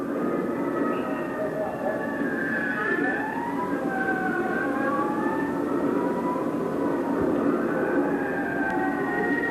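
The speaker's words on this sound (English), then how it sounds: "Hear the sirens coming." Motorcade sirens approaching, several wailing tones rising and falling together at a moderate distance over a steady rumble of traffic.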